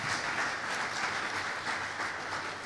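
An audience gives sustained, dense applause for God during a motivational talk, with an even wash of clapping filling the whole moment.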